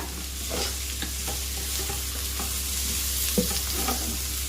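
Goda masala is stirred into Maharashtrian masala khichdi sizzling in a pot, with a spoon scraping in soft repeated strokes over a constant frying hiss and low hum, close and steady.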